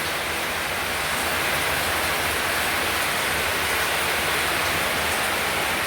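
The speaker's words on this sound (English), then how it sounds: "Heavy rain." Heavy rain falls outside at night as a dense, even roar of hiss without a break, loud and close, with no voices.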